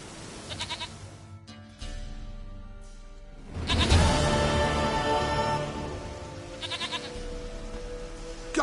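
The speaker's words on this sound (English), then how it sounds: "Goat of mine, dearest, sweetest goat." A goat in The Witcher 3: Wild Hunt bleats in several short wavering cries, fairly close and clear against a quiet, slightly rainy background.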